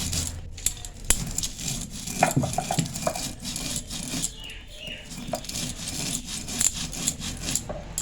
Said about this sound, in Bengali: ভাজা মশলা গুঁড়ানো হয়ে গেছে